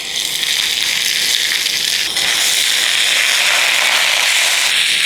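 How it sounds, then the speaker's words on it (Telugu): Fresh spinach bunch dropped into a little hot oil in a pan, a loud steady hiss and crackle of frying that fills the whole stretch without pause. "దీంట్లో ఒక్క కట్ట పాలకూర వేసేస్తున్నా."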